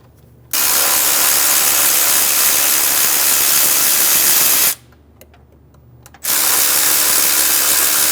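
A power tool spinning off 14mm engine mount bolts on a 2003-2008 Honda Pilot, two long loud whirring bursts broken by a short quiet gap.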